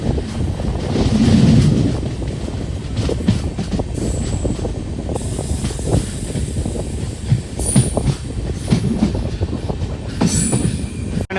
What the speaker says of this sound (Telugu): ఫస్ట్ క్రాసింగ్ అయితే పడింది కన్యాకుమారి ఎక్స్ప్రెస్ ట్రైన్